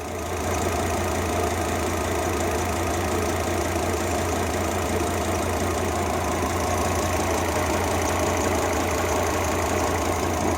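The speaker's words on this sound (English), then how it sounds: "Okay, so we've got one cylinder that's not firing still" A Volvo XC90 T5 engine idles roughly with one cylinder misfiring, giving a continuous loud, close mechanical drone with an uneven underlying throb and no pauses.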